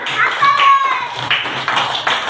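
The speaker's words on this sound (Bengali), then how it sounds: "সবাই হাততালি দাও" First-grade children clap in a Bengali classroom, short bursts of scattered hand claps mixed with children's voices.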